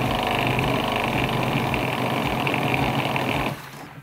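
A food processor whirs loudly and steadily as it briefly mixes paleo biscotti dry ingredients, the close motor hum running for about three and a half seconds before cutting off.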